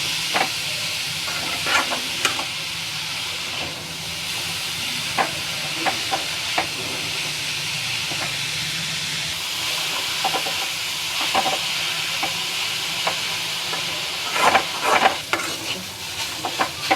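Grated carrot frying in ghee for carrot halwa, stirred with a spoon: a steady close sizzle runs throughout, broken by sharp scraping clicks of the utensil against the pan at irregular intervals, with no talking.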